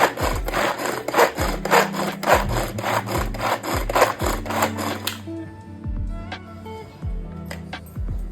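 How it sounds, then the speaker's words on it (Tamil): A knife chops two onions into small pieces on a board, quick, even strokes in a steady rhythm that then slow to sparser, separate cuts, close and clear with no talking. "நான் இன்றைக்கி 2 ஆனியன் எடுத்து அதை குட்டி குட்டியாக கட் பண்ணி வச்சுக்கிறேன்"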